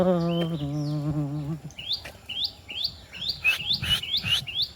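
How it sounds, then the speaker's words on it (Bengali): Short, bright bird chirps repeat steadily after a brief tonal hum at the start, each tweet clear and fairly close, with faint rustling underneath. "দেখছেন বস, পাখি ডাকছে।"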